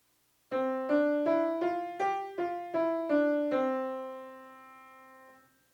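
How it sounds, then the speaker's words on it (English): Jazz keyboard plays seven evenly spaced straight eighth notes in a short ascending and descending line, the last note ringing out and fading; clean, close and alone with no voices. "So while straight eighth notes might sound like this"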